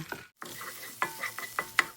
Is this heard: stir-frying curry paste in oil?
yes